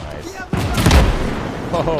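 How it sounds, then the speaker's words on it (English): A big explosion in the WWII strategy game Gates of Hell erupts as a heavy boom with a sustained rumbling roar, set under ongoing battle noise and a commentator's voice. "big explosion"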